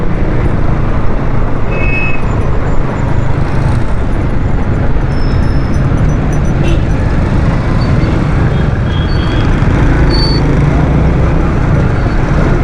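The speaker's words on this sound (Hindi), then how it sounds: "यहाँ पर अक्सर ट्रैफिक जाम रहता है यार।" Heavy, congested road traffic near a busy city junction, with a steady loud wash of car, bus and truck engines and occasional horn-like tones, no clear talk.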